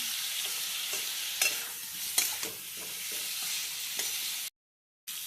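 Potatoes fry with ground spices such as coriander and chili powder, a soft continuous sizzle with irregular spoon scrapes and taps as they are stirred, ending in a brief silence.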